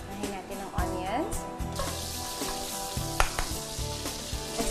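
Onions sautéing in a pan for a tausi ulam burger, a steady bright sizzle with occasional stirring and clinks of a utensil, while people talk over it.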